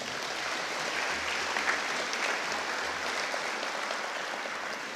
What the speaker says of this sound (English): A nice round of applause, please, for all of our sponsors.